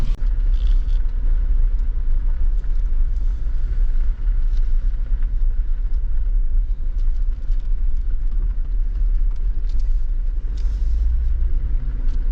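A 4WD vehicle in four-high with the sway bar disconnected and tires at 17 psi rumbles steadily off-road across desert terrain, heard from inside as a constant low drone with no talking.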